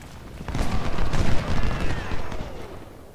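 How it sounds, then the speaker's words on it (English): Cannon fire rolls through a Civil War battle at Bull Run in Ultimate General: Civil War, a dense rumbling barrage of booms and crackling shots that swells and fades over a few seconds, loud and continuous. "We're now going to take a large amount of hits from the enemy artillery"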